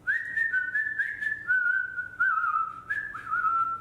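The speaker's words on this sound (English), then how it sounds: "that was actually some good whistling" A person whistles a clear, wavering melody at close range, sustained tones gliding between notes with brief breaths between phrases, alone with no talking.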